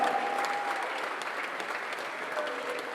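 A standing ovation for a president at a Ghanaian gathering: many hands clapping in a steady, dense roar that holds level throughout, with a faint whistle and scattered voices in the crowd.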